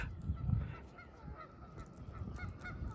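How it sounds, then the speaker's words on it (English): Geese honk on an island near the water, several loud calls early and then repeated honks farther off, chattering over light background noise. "Y'all hear them geese? Talking up a storm."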